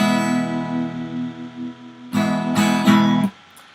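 Acoustic guitar chord played for a beginner lesson: a ringing chord sustains, then several firm strums follow before the sound is cut off sharply. Near and moderately loud, with no talking.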